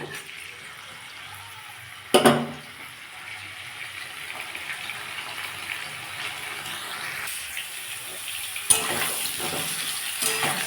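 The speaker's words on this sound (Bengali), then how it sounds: "বন্ধুরা তেলটা আমার গরম হয়ে গেছে আমি ফুলকপিগুলো এর মধ্যে দিয়ে দিয়েছি" Cauliflower florets frying in hot oil in a kadai give a steady, moderate sizzle throughout, broken by two sharp clattering knocks near the start and again later, with no talk.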